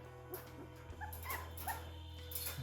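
Three-week-old Malinois puppies whimper and yip softly indoors, several brief high cries scattered across a quiet, low-level background with faint handling noises.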